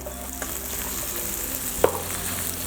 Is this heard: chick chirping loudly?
no